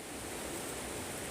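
Rainwater from a storm runs off sloping ground into a vegetable garden, making a steady, even rush of flowing water with no talking.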